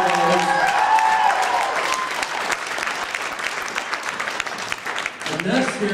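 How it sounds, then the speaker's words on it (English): A convention crowd at an anime dating auction breaks into steady, full applause after a charity total is announced, while voices speak over the clapping at the start and again near the end. "Ladies and gentlemen, give yourself a big round of applause."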